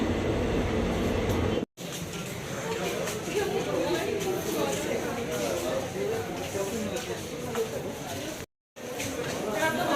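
A Bangriposi–Bhubaneswar Intercity Superfast Express runs along the line, giving a steady, loud rumble of rolling carriages with background chatter from passengers, broken by two brief silent gaps.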